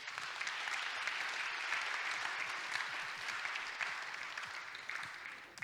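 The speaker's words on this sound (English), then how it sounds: "Let's give him a round of applause" Sustained audience applause fills the room at a tech security conference talk, dense and steady clapping throughout with no voices on top.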